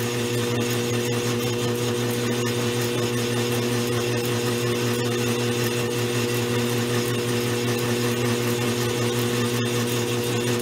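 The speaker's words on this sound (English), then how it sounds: "I'm doing a nice facing cut on this piece of aluminum I've got here." A Goodell Pratt Model 494 bench lathe takes a facing cut on a piece of aluminum, giving a steady, loud mechanical whir and hum with a constant tone and no pauses.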